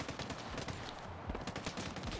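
Gunfire in the video game STALKER 2, a dense burst of rapid shots with a steady rattling texture filling the moment, loud and continuous with no talking.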